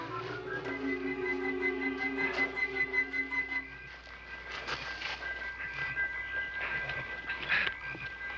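A train rolls along with squealing, whistling wheel tones and rhythmic clatter, moderately loud and steady throughout.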